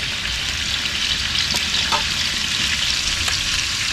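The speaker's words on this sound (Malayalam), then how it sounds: "ഇനി കടി കടുകിട്ട് കൊടുക്കാം ഇനി നമുക്ക് കറിവേപ്പില ഇട്ട് കൊടുക്കാം" Mustard seeds and curry leaves sizzling in hot oil, a loud, dense, unbroken hiss with a few sharp pops and crackles on top, close-up and with no talking.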